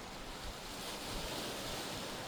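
Sea waves wash against steep cliffs at Cape Peshchurov in Vostok Bay on the Sea of Japan, a faint, continuous surf roar mixed with wind noise and no voices.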